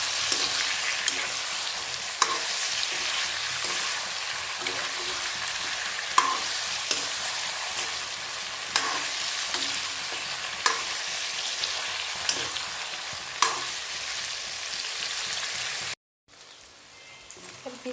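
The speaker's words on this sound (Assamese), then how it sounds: "আলুখিনি দি আকৌ ভাজি ল'ম 5-10 মিনিটৰ কাৰণে।" Potatoes sizzle steadily in a pan for an Assamese mutton curry, with regular stirring knocks and scrapes over the constant frying hiss. It stops abruptly near the end.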